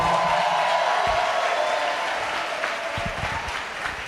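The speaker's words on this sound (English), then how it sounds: "Can we clap it up for him?" Church congregation applauding and cheering for a pastor during a sermon, a dense steady wash of clapping from a large crowd that tapers slightly, with faint voices mixed in.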